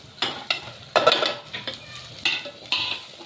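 A spice mix of garam masala, cumin and coriander powder, kasuri methi and salt cooks in oil in a pan, heard as intermittent stirring scrapes and soft sizzling bursts at close range with no speech.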